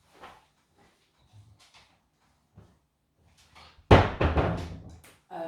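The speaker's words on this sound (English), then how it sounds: "let me close the door so we don't get interrupted" A door swings shut with a sharp, loud thud after a few soft footsteps and shuffling, followed by a brief rattle as it settles.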